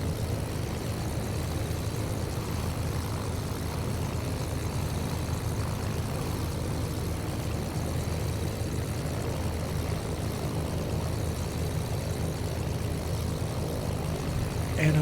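Propeller engine of an ME-108 Typhoon airplane in a flight simulator game, a steady droning hum holding an even pitch throughout, continuous and close.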